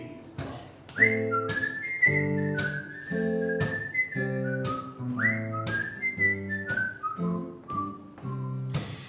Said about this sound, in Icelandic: Á ég að flauta intro?